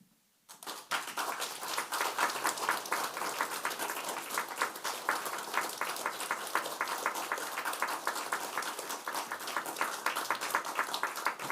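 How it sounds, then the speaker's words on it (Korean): A church congregation applauds award winners during a Sunday service, a sustained, even round of clapping that starts abruptly after a short quiet moment and carries on steadily throughout. "박수하겠습니다"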